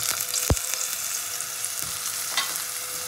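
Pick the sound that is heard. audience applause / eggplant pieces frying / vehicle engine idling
eggplant pieces frying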